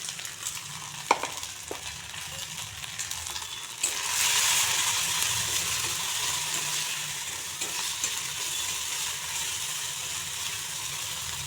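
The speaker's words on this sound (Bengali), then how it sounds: "মরিচ মশলা দেখুন কষানো হয়ে গেছে" Spices with turmeric and red chilli powder fry in a pan for a raw banana, potato and fish curry, a soft hiss that swells into a loud, continuous sizzle after a couple of clinks, with no talking.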